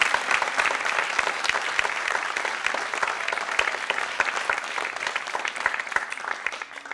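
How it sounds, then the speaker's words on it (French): A festival audience at a Paris literary reading gives an ovation, dense sustained clapping from a full crowd, loud and even throughout with no voices standing out. "faire une belle ovation."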